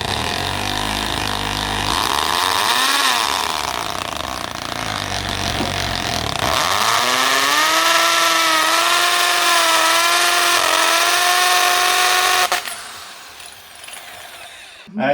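Power drill with a number 6 bit boring holes into a wall to hang an IKEA EKET shelf, a loud steady whine that rises in pitch and then holds high and continuous before cutting off near the end.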